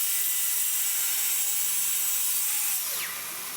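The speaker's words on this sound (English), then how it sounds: "I'm just going to trim down these bits of birch ply" A power saw cuts through birch plywood pieces with a steady high-pitched whine and rasp, winding down near the end as the blade slows.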